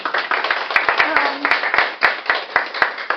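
Audience applause at a curator's talk for an art exhibition: a small crowd clapping steadily with sharp individual claps standing out, fairly close, with a brief murmur of voices underneath.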